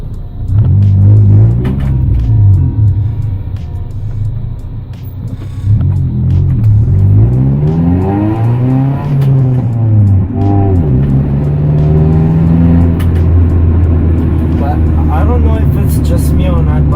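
An Acura Integra with its muffler deleted rumbles and revs loudly up close, its engine note rising and falling in long swells over several seconds while a person talks intermittently nearby.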